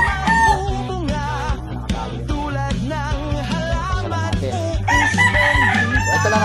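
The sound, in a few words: rooster crowing and chickens at a backyard breeding farm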